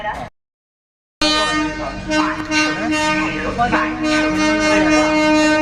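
A Konkan Railway RO-RO train rumbles past close by with a sustained horn-like tone, after a brief moment of silence at the start.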